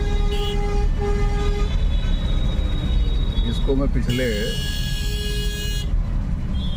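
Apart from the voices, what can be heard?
traffic jam with car horns honking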